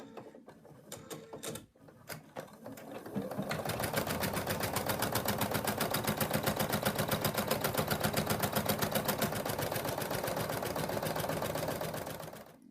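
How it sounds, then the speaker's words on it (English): A home embroidery machine stitches out the first white outline of an in-the-hoop mug rug on hooped stabilizer. A few clicks come first, then a steady, rapid mechanical needle chatter runs close and continuous to the end. "now we're gonna stitch out the first color, and that is gonna be the outline"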